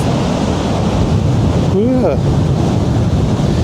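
Sea surf churning where incoming waves collide with outgoing backwash, a steady loud wash of broadband noise throughout with wind buffeting the microphone; a brief tonal whine or call rises faintly partway through.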